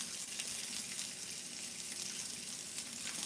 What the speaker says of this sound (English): I'm putting some water in my rice.